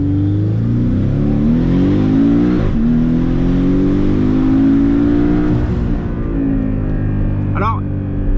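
Porsche 718 Cayman with a 300-horsepower turbocharged four-cylinder engine revving hard under full throttle, a loud continuous rising drone with climbing harmonics and a brief shift dip, heard close from inside the car.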